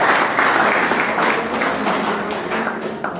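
A group of young people at an outdoor election-time street interview breaks into loud, sustained applause that slowly fades over a few seconds, with voices mixed in.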